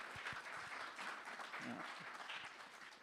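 Audience applause in a church setting during a family interview at a weekend event in Rumilly, a steady wash of clapping with a few voices murmuring underneath.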